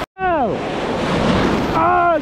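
Big ocean waves breaking during a surf session on a day of large swell, a loud close roaring wash with wind buffeting the microphone, lasting about two seconds.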